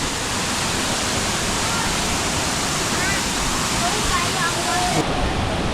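A waterfall on a river pours with a steady, loud, broadband rushing roar throughout, heard close up, with a voice faintly present beneath the water noise.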